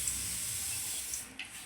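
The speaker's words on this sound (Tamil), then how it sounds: "கடுகு வெடிக்கட்டும்" Mustard seeds spluttering in hot oil while a crab rasam is cooked, a quiet, continuous sizzling hiss with a few small pops near the end.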